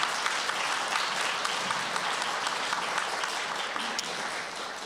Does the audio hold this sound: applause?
yes